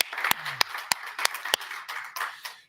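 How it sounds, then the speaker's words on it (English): Sparse, scattered handclaps from a small audience, a dozen or so separate claps at uneven intervals with no speech, fairly close and moderately loud. "We're giving a round of applause."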